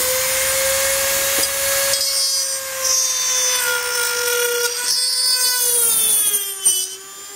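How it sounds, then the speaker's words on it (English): Dremel rotary tool with a cutting bit grinding through a Kydex sheath for a tactical tomahawk, a loud high-pitched whine that dips and rises under load as the bit bites into the plastic. "And I'll just be using this Dremel bit to do that."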